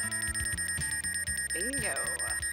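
Loud electronic tracking beeps from the Land Shark movie repeat in a steady rhythm, followed by a warbling, sweeping tone near the end, with voices faintly mixed in.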